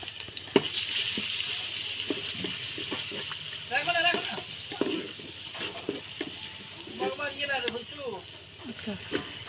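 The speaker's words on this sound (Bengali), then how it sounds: "লবণ, পেঁয়াজ এগুলোকে একটু ভালোভাবে ভেজে নিব এখানে" Onion, ginger, garlic, cardamom, cinnamon and salt fry in a pan for pulao, giving a steady sizzle with occasional stirring scrapes while a voice talks intermittently over it.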